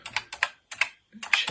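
Keys clatter on a BBC Micro keyboard as a tape command is typed, four quick bursts of close, crisp clicks separated by short pauses, with no voice.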